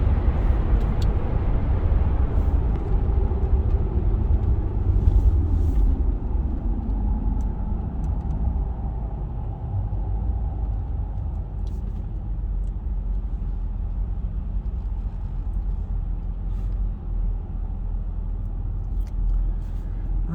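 A supercharged Jaguar XKR accelerating hard, a loud, close engine roar heard from inside the car that rises and then settles into a steady cruising drone with wind and road noise.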